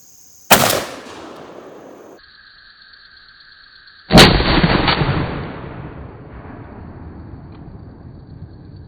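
Mossberg 835 shotgun firing #4 buckshot through a turkey choke outdoors; two loud, sharp blasts a few seconds apart, each trailing off in a rolling echo.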